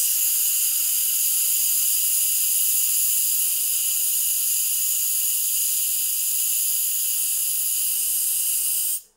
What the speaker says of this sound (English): So we're going to continue our steam release.